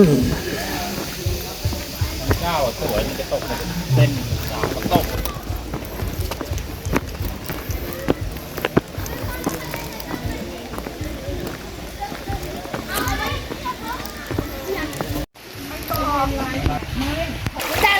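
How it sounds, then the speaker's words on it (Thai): The second tier of Kao Chan waterfall in Ratchaburi, a loud steady roar of rushing water filling the scene, with a person talking over it. "นี่คือน้ำตกชั้นที่สองโอ้ น้าแรงมากเพื่อนๆ"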